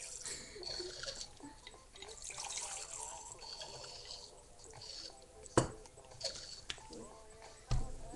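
Water trickles and splashes as it is poured into a glass for a homemade drink, faint with a few sharp clinks, while people talk quietly nearby.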